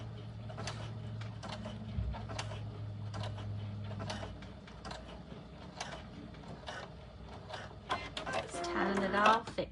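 A Baby Lock sewing machine stitches a buttonhole with a presser foot, giving quiet, rapid mechanical clicking and whirring under a soft background hum.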